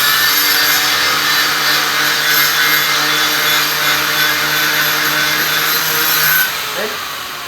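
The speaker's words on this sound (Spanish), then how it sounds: "Lo que vamos a hacer ahora con la moladora y un disco clap, le vamos a pasar, sacar el óxido en el borde donde vamos a soldar." Angle grinder fitted with a flap disc grinding rust off the edge of a steel plow disc, a loud sustained high whine with abrasive hiss that drops away near the end.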